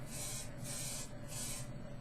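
Three bursts of hissing spray from an aerosol can, each about half a second, separated by short pauses.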